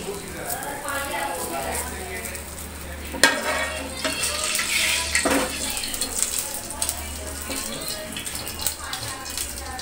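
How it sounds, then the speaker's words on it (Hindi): Steady sizzling of onion tempering frying in a pan for chicken degi pulao, with scraping stirs and a few clanks of utensils, while a voice talks over it. "अब हम इसमें प्याज का तड़का ऐड करेंगे।"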